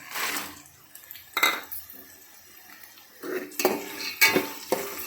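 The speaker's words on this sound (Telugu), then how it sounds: "ఇప్పుడు పల్లీలు కూడా ఫ్రై అయినాయి." Peanuts are being fried and stirred in a pan, with intermittent scraping and clattering strokes separated by quiet gaps and no talking.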